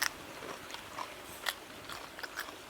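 Someone bites and chews a raw wild vegetable pod up close, giving faint scattered crunchy snaps against a quiet background.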